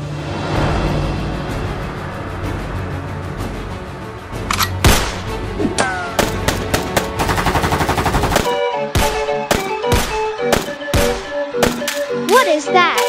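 Roblox Brookhaven gunfire, rapid repeated shots in irregular bursts, loud and close, first mixed with game music and chatter, then sharp isolated cracks dominating the latter half.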